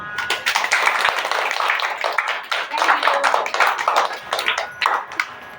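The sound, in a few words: children clapping at birthday party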